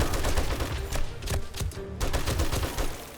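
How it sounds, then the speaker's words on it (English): Shotgun turrets in the game 7 Days To Die blast at a zombie horde during a blood moon, a dense, continuous barrage of overlapping booming shots with heavy low thuds, loud and relentless. "The shotgun turrets are taking care of them."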